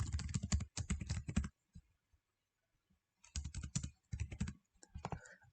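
A password typed on a computer keyboard, two quick bursts of close key clicks separated by a quiet pause of nearly two seconds, moderately faint, with no talking.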